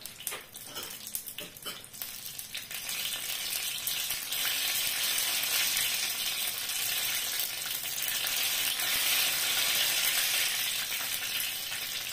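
Empanadas frying in hot oil give a steady, dense sizzle with crackling splatters, starting with a few sharp pops and then settling into a loud continuous hiss.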